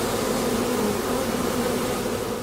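Bees buzz in a continuous, steady drone close by around a coffee-growing apiary, with no talk.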